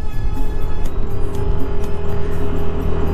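A car travels along a wide new road at about 40 km/h, heard from inside as a loud, steady engine and road rumble with no speech.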